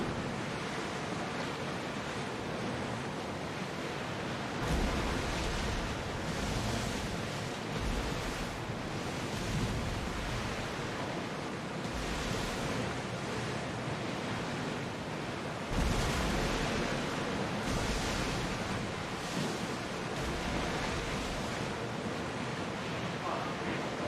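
Ocean waves surge and wash in steady broadband rushes with windy noise while a ship sails at full speed in a video game, the swells rising and falling in loudness.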